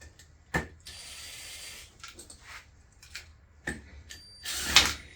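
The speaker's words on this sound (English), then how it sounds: "So now I'm unscrewing everything." Screws being undone by hand in a home workshop, giving a few sharp ratcheting clicks and brief metallic turns spaced across the moment, close and moderately loud against quiet room noise.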